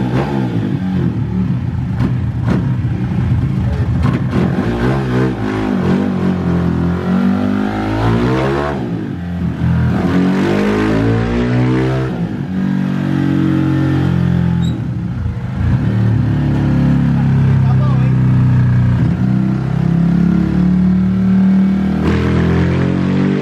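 A Honda CG 150 motorcycle fitted with a 240cc kit engine revs hard and loud, its pitch climbing and falling through repeated throttle sweeps for over twenty seconds with no talk.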